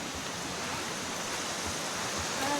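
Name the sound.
river water flowing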